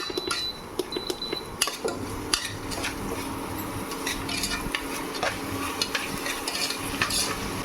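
Salted onion masala frying in a pan for chicken salna, a steady sizzle broken by sharp metal clinks and scrapes of a spoon stirring against the pan, close and busy, no speech.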